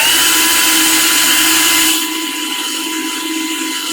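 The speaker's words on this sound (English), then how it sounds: "And then you start with the central screw drilling." A loud, steady high-pitched surgical drill whine boring into bone for a shoulder replacement screw runs continuously, then the tone shifts and thins slightly partway through as the load changes.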